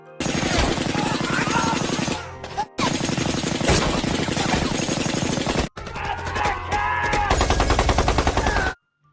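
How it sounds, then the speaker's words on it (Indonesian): Gunfire in a film gunfight scene from Darah Garuda, with loud, dense bursts of rapid shots crackling continuously, broken by two brief pauses before cutting off abruptly. "Akhirnya baku tembak tak dapat dihindarkan."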